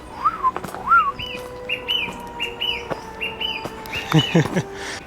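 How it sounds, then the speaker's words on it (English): A bird calls and chirps repeatedly on a hill walk in the Malvern Hills on a summer day, with clear whistled notes and short trills close by in an otherwise quiet outdoor setting. "I think that bird's trying to get my attention."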